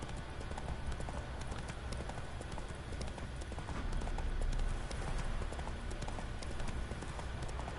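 Roach the horse gallops in The Witcher 3, a steady, continuous clip-clop of hooves on the ground that stays even and moderately loud throughout with no break.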